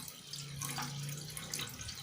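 Water poured from a container into a cooking pot while making jamu beras kencur with turmeric, a steady, soft splashing stream close by with no talk.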